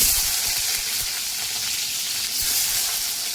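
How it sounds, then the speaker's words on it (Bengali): Capsicum sizzling in hot oil in a home kitchen while chilli chicken is being cooked, a steady close crackling fry with a few stirring scrapes, no talk. "এবারে এই তেলের মধ্যে আগে দেব ক্যাপসিকাম"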